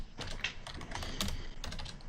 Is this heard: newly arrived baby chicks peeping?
no